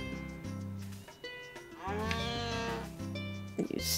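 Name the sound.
cow mooing in video game Harvest Moon: A Wonderful Life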